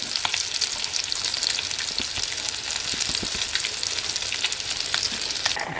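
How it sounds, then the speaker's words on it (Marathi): Pieces of khadas river fish, coated in semolina or rice flour, frying in hot oil with a dense, steady crackling sizzle close up and no voices. "चला मंडळी, खडस मासा फ्राय होतो आहे"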